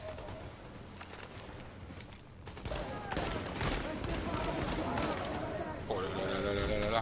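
Sniper rifle fire and other gunshots crackle through a firefight in the video game The Division, dense overlapping bursts running throughout at moderate loudness, with a voice speaking over the shooting.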